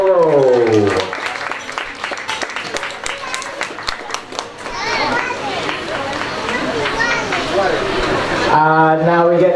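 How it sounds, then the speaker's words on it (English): Audience at the 2019 RSPC Open polo prize giving claps in a burst of scattered applause for a team, with voices speaking before and after. "Please can we have a big round of applause for Jogo Polo."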